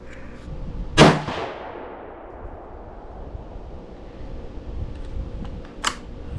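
A single sharp Ruger American Gen 2 Predator rifle shot cracks loudly at a sighting-in range, with a long decaying tail, followed by a fainter second report a few seconds later.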